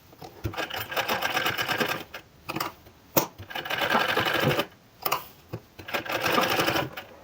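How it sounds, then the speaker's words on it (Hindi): A sewing machine runs in several steady bursts with short pauses between, stitching a cutwork sleeve on a suit fabric; loud and close with no talk. "तो चलिए सिलाई लगाना शुरू करते हैं"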